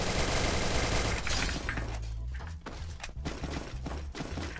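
Video game gunfire, dense loud bursts of shots over a heavy rumbling bed, then sharper separate cracks and thuds continuing to the end.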